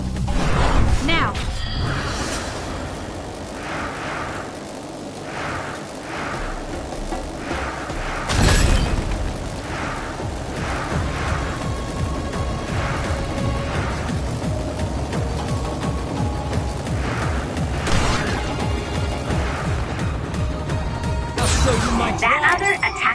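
Several loud booming blasts erupt over continuous music and action sounds in Scarlet Nexus, with sharp crashes standing out now and then.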